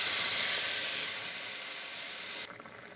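Water poured into a hot pan of frying fish, giving a loud, steady steaming hiss that fades slowly, then drops off sharply near the end.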